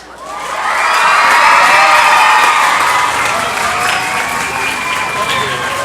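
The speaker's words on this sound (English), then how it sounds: "Let's give a nice round of applause" A high school concert audience bursts into loud applause mixed with cheering and children shouting, swelling quickly and then holding as a dense, sustained roar of clapping.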